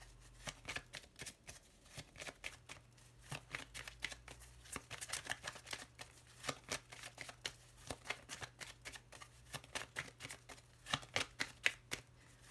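A small Lenormand deck is shuffled close by with quick papery riffles and flicks in a steady, irregular rhythm, soft and continuous with no voice.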